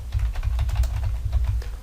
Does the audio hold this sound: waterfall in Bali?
no